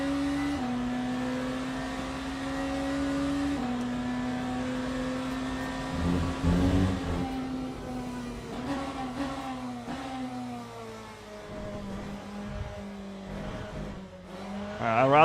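BMW race car in the endurance racing game Le Mans Ultimate, its engine droning loudly at high revs, pitch falling and climbing through shifts and corners, with tire noise and bumps along the lap.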